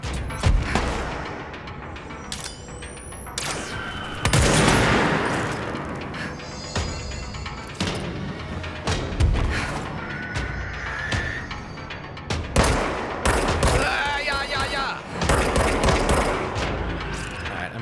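Sniper gunfire in the video game Control: loud, close shots and bursts crack out repeatedly over a dense, booming game soundscape, with no talk.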